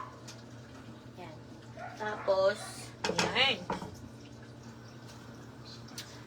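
Water splashes and sloshes as it is poured out of a metal cooking pot, with clanking of the pot in short bursts, while a person speaks quietly over low background hum.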